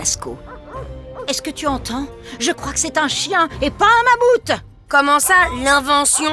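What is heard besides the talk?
dog barking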